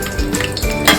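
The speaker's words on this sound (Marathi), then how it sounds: "त्याच्यानंतर माझ्याकडे खडे मसाले होते ते टाकूया." Whole spices tipped into hot oil in a pan, with a short burst of clattering metal against the pan and a soft frying sizzle, loud and close, over about a second.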